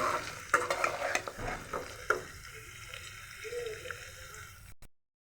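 Raw mango pieces frying in oil for a pickle, a gentle sizzle with spoon scrapes and a few knocks early on, fading out abruptly into silence.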